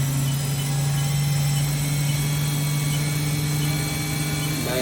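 A 2007 Haas VF-3YT vertical machining center with its spindle running, producing a loud steady tonal whine over broadband mechanical hum that holds constant throughout, with a rising tone appearing near the end.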